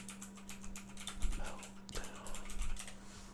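Quick, irregular keystrokes tap on a computer keyboard, moderately close and fairly quiet, with a short burst of clustered clicks partway through and no voices.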